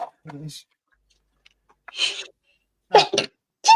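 A short, sharp sneeze bursts out nearby among brief spoken exchanges, with quiet pauses between the sounds.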